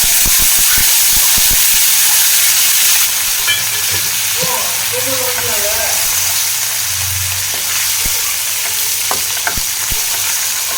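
Cashews and curry leaves drop into hot oil in a pan for potato masala, giving a loud sputtering sizzle with sharp crackles and pops that settles into a steady frying hiss.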